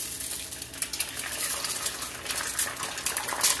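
An egg hits a smoking-hot oiled pan and sizzles in a steady, crackling hiss with sharp spatter pops, close and continuous, without any talk.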